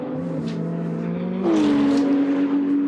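A GT race car at the Red Bull Ring accelerates out of turn 3 with a steady high engine drone that jumps up in pitch and loudness as it shifts and pulls away, heard clearly without commentary.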